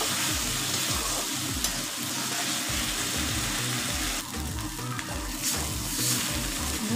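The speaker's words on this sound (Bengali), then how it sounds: "মশলাটাকে ভালো করে ভেজে নিয়েছি।" Spice paste with grated tomato and red chili powder frying in a pan for a village-style Bengali prawn and potato curry, giving a steady close sizzle with scraping stirs throughout and no voices.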